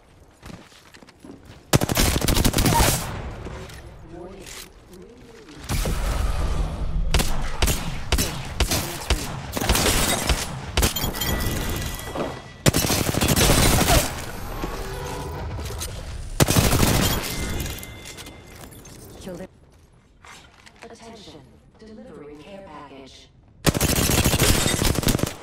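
An R-301 rifle in Apex Legends fires long, loud automatic bursts, repeated many times and separated by short quiet pauses, with heavy booming low end.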